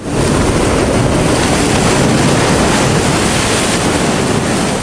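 A raging, rushing river sound effect: a loud, dense roar of churning water fills the whole stretch, steady and unbroken from start to finish with no voices.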